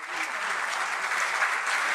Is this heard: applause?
yes